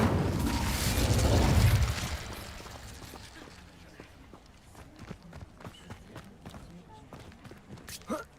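An Incendio fire spell cast in Hogwarts Legacy: a loud whooshing burst of flame that swells and fades within two seconds, followed by quiet footsteps and ambient clicks.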